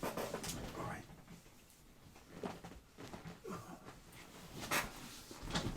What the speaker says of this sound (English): Man, dogs in recording.